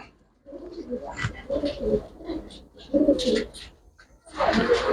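A black Chinese pigeon hen coos close by in a series of soft, throaty, rolling calls with short pauses between them, alone without talk.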